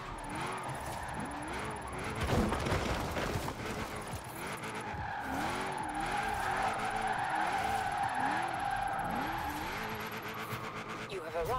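A Firebird Trans Am drifts in Forza Horizon 4, its engine droning steadily with rising and falling revs while tires squeal and skid through long slides, with a harsher burst of tire noise partway through.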